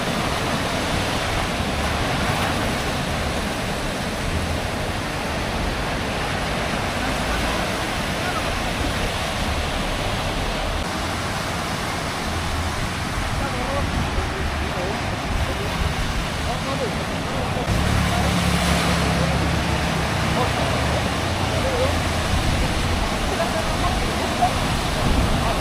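Pacific Ocean surf at a beach in Trujillo, where reed boats rest on the shore, gives a steady, loud, broadband roar of breaking waves that swells a little stronger toward the end.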